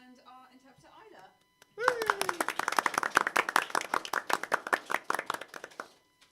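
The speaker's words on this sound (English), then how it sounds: "just one final round of applause for our GM," A small audience at the close of a live tabletop role-playing game session bursts into dense clapping after a brief spoken line; the applause holds for about four seconds, then thins into scattered claps.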